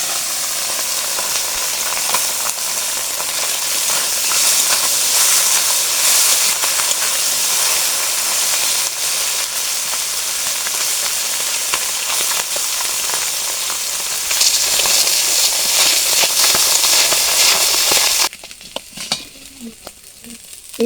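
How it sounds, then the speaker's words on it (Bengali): Small mola fish frying in hot mustard oil in a pan, a loud, steady crackling sizzle that runs continuously, then drops away sharply near the end as the fish come out. "এই যে দেখুন বন্ধুরা, মাছগুলো সুন্দর করে ভেজে নিয়েছি"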